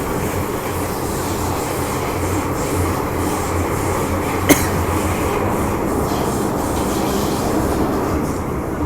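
A metro train rumbles steadily through Tin Hau Station in Hong Kong, a continuous broad roar with one brief sharp click midway, no voices heard.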